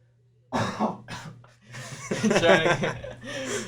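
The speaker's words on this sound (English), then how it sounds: "I'm trying to get this cough out." A few close, raspy coughs and throat-clearing noises, followed by a muffled chuckle, with a low hum underneath.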